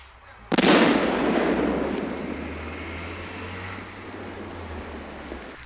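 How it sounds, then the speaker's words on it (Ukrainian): An artillery shell explodes near an apartment block in Nikopol, Ukraine. It lands as a single sudden loud blast followed by a long rumbling decay that fades over several seconds. "Не встиг чоловік відремонтувати вікна, як поруч вкотре пролунав вибух."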